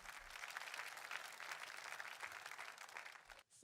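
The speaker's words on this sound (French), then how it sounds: "Applaudissons pour le Seigneur Jésus-Christ." A church congregation applauds together in sustained, dense clapping that holds steady for several seconds before cutting off abruptly near the end.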